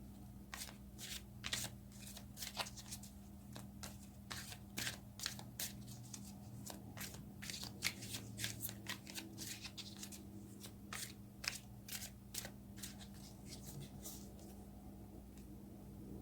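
Tarot cards shuffled by hand, a long run of crisp riffling bursts in a rapid irregular rhythm, close and fairly quiet, with no talking over it.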